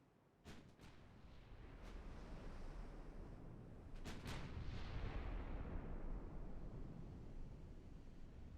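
Warship cannons in the naval game Ultimate Admiral Dreadnoughts fire several sharp booms, some in quick pairs, over a constant low rushing roar of sea and battle.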